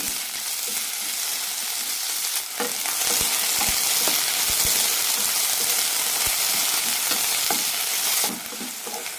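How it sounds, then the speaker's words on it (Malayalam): Ivy gourd pieces sauté in a teaspoon of oil in a pan, a loud continuous sizzle broken by repeated scraping and clicking stirs of a spatula, with no one talking. "ഇതിലേക്ക് കോവയ്ക്ക ഇടാം നാലഞ്ച് മിനിറ്റ് നന്നായി വഴറ്റിയെടുക്കാം"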